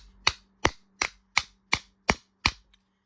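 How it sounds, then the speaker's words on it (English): A small brass hammer strikes a part of a Shakespeare Wondereel 7500 fishing reel, seven sharp, evenly spaced metallic knocks at close range, with no talk. "I'm going to use just a little brass hammer to see if I can knock this piece free"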